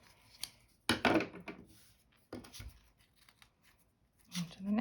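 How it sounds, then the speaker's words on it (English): Scissors snip a frayed edge off fabric in a few quick close cuts, leaving small rustles and quiet handling between them. "I'm just going to cut off this frayed edge."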